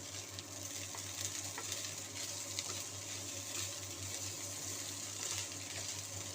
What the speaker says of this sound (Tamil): சாதம் சேர்த்துட்டு கலரிக்கலாம்